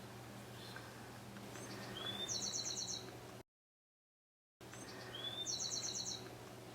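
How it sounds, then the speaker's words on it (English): Songbirds chirp outdoors beyond a studio, two short bright trilling phrases rising over a steady low hum, faint and distant, broken by a brief gap of silence. "the birds are singing outside my studio"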